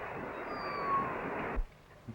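A single cat lets out one drawn-out meow lasting over a second, close and fairly clear, followed by quiet with a faint small sound.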